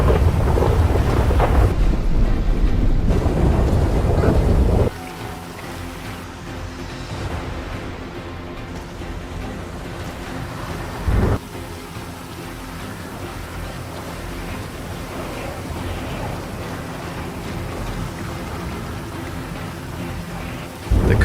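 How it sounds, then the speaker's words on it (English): Heavy rain pours steadily outdoors, loud and broadband at first, then settling into a softer continuous downpour with a brief thump of thunder partway through and no talking. "it's mad rain pouring outside"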